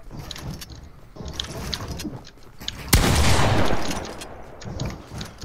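A purple pump shotgun in a video game fires once, a sharp, loud blast partway through, among lighter in-game clicks and rattles.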